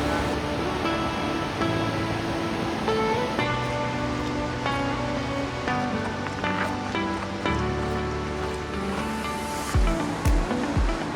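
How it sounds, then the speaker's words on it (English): A waterfall of clear snow-melt water in Canada gives a loud, steady rushing roar for the whole clip, with faint sustained tones underneath. "This was one of the best waterfalls I've ever seen."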